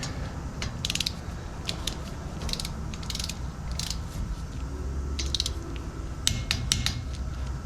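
Ratcheting torque wrench tightening front brake bolts on a 2004-2008 Ford F150 2WD, with bursts of sharp clicking repeating in clusters over a low steady background rumble, no talking.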